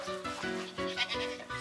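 A beige goat kid bleats repeatedly at close range, several short wavering calls in quick succession.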